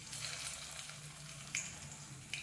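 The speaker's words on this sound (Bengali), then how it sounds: "ভুট্টার চপটা যে বানিয়েছি সেগুলো দিচ্ছি।" Corn chops frying in hot white oil in a wok, a steady soft sizzle and crackle with a couple of brief sharper spits, heard alone at close range.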